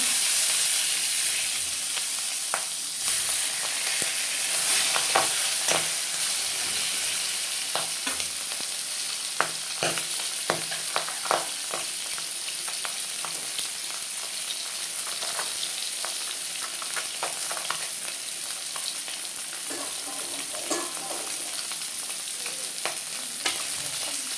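Singi catfish frying in hot oil with five-spice (panch phoron), a steady dense sizzle with frequent crackles and spatter pops throughout, close and loud with no talking.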